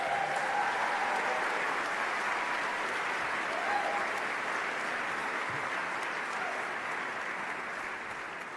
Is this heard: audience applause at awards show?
yes